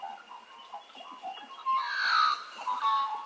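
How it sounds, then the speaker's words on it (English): An Australian magpie sings a short, warbling, musical phrase, clear and close, over a quiet background. "This is the Australian magpie."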